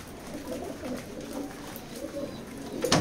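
Racing pigeons in a loft coo softly and steadily over a low hum of background noise, with a sharper burst of noise at the very end.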